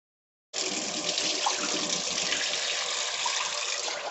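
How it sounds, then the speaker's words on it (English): Tap water gushes steadily into a pan of washed white rice on a stovetop, a loud, continuous splashing pour that starts abruptly after a brief silence and runs without pause. "So I'm gonna add water."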